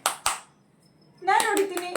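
Two sharp, close hand claps in quick succession, followed by a lull and then a voice talking.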